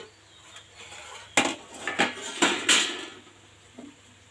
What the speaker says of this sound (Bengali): 10 মিনিট পর ঢাকনাটা খুলে দেখাচ্ছি আপনাদের।